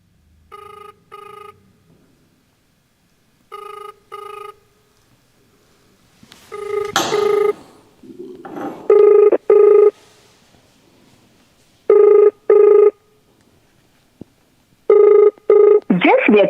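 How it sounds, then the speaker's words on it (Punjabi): An outgoing phone call rings unanswered: paired ring tones repeat at regular intervals, clear and close, with a brief burst of other noise partway through and no voice talking. "ਕਲਕੱਤਾ ਸਾਹਿਬ ਫੋਨ ਨਹੀਂ ਚੁੱਕ ਰਹੇ।"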